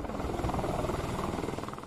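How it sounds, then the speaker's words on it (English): An 8-seater helicopter flying over flood-hit Himalayan villages, its rotor giving a fast, steady chopping pulse at moderate distance, alone and continuous. "An 8-seater helicopter"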